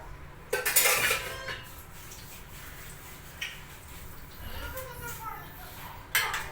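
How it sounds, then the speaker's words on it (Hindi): An iron kadhai is set down on the stove while cooking Haryana-style gwar ki fali sabzi, giving a sharp metallic clank followed by softer clinks of pans and utensils, close and fairly loud. "तो मैंने रख दिया है कढ़ाई"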